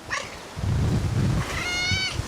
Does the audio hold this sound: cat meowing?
yes